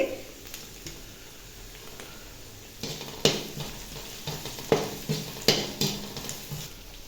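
Onion, cabbage and carrot stir-fry briefly in a pan for egg fried rice: a low steady sizzle under repeated spatula scrapes and clacks that come in a loose rhythm and grow more frequent toward the end.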